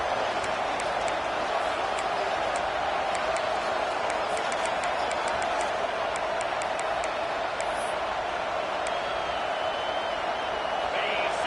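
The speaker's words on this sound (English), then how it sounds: "Listen to the crowd energy here in the early going." A stadium crowd in the NCAA 26 football video game gives off a constant roaring wash of cheering and clapping for over ten seconds, loud and unbroken, with commentary voices mixed underneath.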